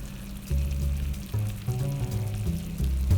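Chicken thighs sear in a cast iron skillet with a close, steady frying sizzle, broken by low thumps and shifting tones as pieces are moved about, with no talking.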